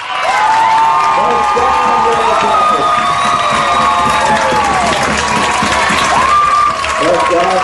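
A high school football crowd at Roanoke Rapids erupts in loud, sustained cheering and shouting after a big catch, a dense roar of many voices holding steady throughout with scattered whoops and claps.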